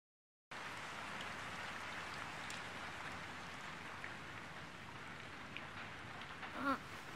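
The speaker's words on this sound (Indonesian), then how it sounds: "Pada suatu pagi sambil ditemani gemericik hujan" Gentle rain patters steadily in the morning, a soft, faint, even hiss of drops with no talking.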